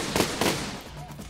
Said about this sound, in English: I see random cannons in the background.